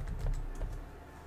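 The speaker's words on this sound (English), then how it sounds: "What happens if I type my name?" Keys tapped quickly on a computer keyboard while a name is typed, a short burst of soft clicks heard up close with no talking.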